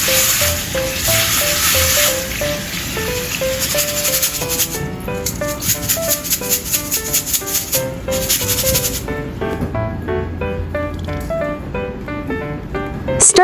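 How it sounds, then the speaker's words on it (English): Ginger slices stir-fried in a pan, a continuous sizzle with rhythmic scraping and rubbing strokes over a backing of soft music. "Stir-fry ginger slices"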